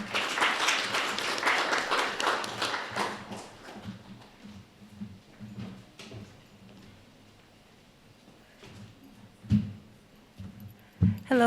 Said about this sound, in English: please give a round of applause for Dina Suarez.